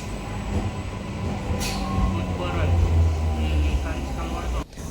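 A MEMU train pulls away from Yakutpura station in Hyderabad's old city, a steady low rumble and rattle of wheels and carriages building gradually, recorded from on board, ending in a sudden drop near the close.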